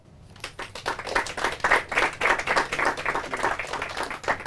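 Studio audience applause, starting from quiet and rising into a dense, sustained round of hand clapping from a small crowd, close and lively throughout.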